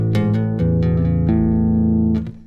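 Electric bass tapping with hammer-ons, pull-offs and slides, a quick close sequence of ringing notes joined by smooth legato changes, played alone without talk.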